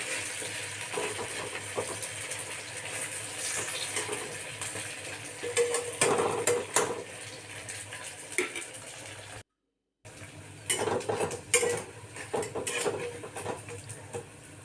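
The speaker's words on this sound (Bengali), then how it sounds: "এবার বেগুনগুলি লাল লাল করে ভেজে নিব। উল্টে করে উল্টে দিয়ে" Brinjal slices fry in a pan for a home-cooked meal, giving a soft crackling sizzle with intermittent scraping and clattering as the pieces are turned, close by, with a brief gap in the sound and no voices.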